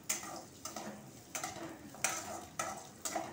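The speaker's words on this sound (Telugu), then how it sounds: "చూడండి, ఎర్రగా వేగిపోతున్నది." Dal tempering frying and crackling in a pan as it turns red, a steady close sizzle with soft stirring scrapes recurring roughly every half second, no talk.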